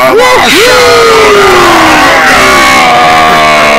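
A crowd of video game soldiers roars out battle cries, a loud, dense wall of yelling voices with rising and falling shouts layered over one another.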